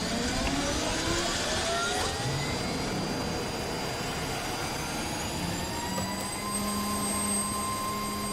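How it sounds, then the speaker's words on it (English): A UH-60L helicopter's auxiliary power unit spools up in DCS World, a steady turbine whine rising in pitch over a constant loud roar. "Or the APU spooling up."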